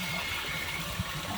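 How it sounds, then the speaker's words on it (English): Water from a garden hose blasts into a toilet bowl as a steady, fairly faint rushing gush that holds evenly throughout. "You can blow out a toilet with a garden hose."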